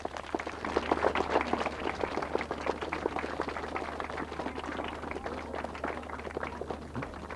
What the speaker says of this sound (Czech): A my samozřejmě všem gratulujeme a taky jim zatleskáme.